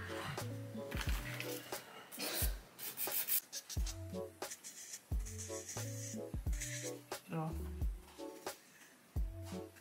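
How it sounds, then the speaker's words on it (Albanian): A hand nail file rasps in short repeated strokes while shaping a freshly cured gel nail, close and fairly quiet, with someone talking intermittently over it and occasional light taps and clicks. "e limoj i jap formën"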